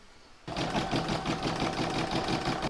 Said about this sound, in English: I can now pop that back in my machine and stitch round to number 12